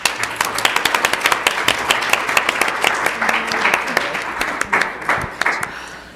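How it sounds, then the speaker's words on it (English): An audience at a talk event applauds, with many sharp, uneven hand claps building into steady applause, loud and close, fading slightly near the end. "Can we get another round of applause for our wonderful presenters collectively?"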